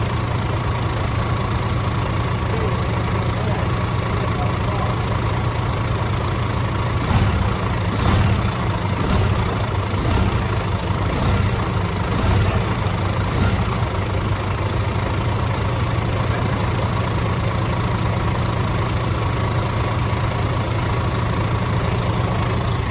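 A DAF CF85 Euro 6 diesel truck engine with a camshaft repair and exhaust blow idles steadily with a deep, rumbling low drone, close by, with a few brief louder revs partway through.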